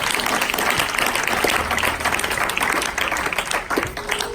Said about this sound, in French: Est-ce que vous pouvez les acclamer?